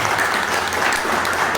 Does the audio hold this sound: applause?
yes